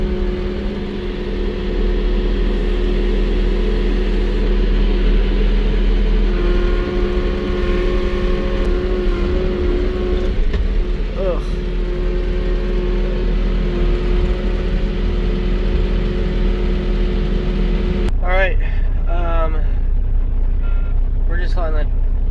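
A semi truck engine idles steadily with a loud low rumble throughout while its air system builds pressure, and a person speaks briefly near the end.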